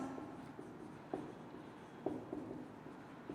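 Chalk or marker writing on a board during a botany class, quiet, intermittent light scratches and taps in a hushed room with no talking.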